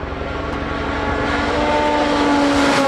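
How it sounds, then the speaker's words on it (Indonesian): A rally race car engine roars loudly and steadily, the revving drone rising slightly in pitch over a few seconds, close and alone without speech. "kalian pasti akan mendengar suara mesin yang sangat indah dan enak didengar seperti ini"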